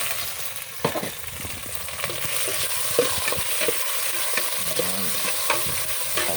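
Onions sautéing for pancit in a pan on a wood-fired stove, with a steady sizzle under repeated scraping and stirring strokes, close and fairly loud, and no talking.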